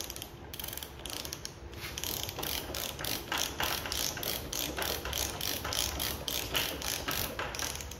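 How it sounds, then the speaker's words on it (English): An Anbull half-ton mini lever chain hoist is ratcheted by hand, giving a close, rapid run of crisp mechanical clicks in a steady rhythm that keeps going without pause. "I have moved the handle into up, so I will start ratcheting"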